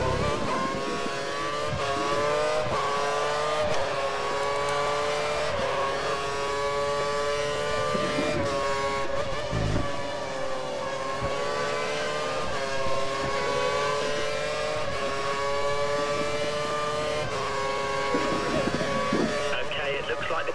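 A Lotus Formula 1 car engine at full revs in F1 2013 at Bahrain, a steady high-pitched whine holding near constant with small gear-change dips, while a commentator talks over it.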